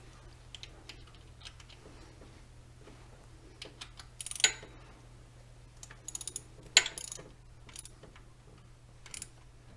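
Timing belt being tensioned on a 1992 Toyota Hilux engine: close, sparse metallic clicks and ratchet-like ticks with a few sharper clanks over a faint steady hum, no voices.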